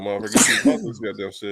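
A sharp, loud sneeze bursts out close by, surrounded by someone talking animatedly before and after it.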